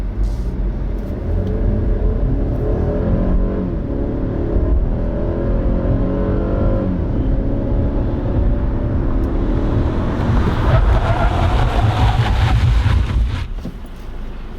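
An Infiniti Q50 sedan brakes hard from 60 mph to a stop, a steady loud engine and road roar running throughout, then cutting away near the end.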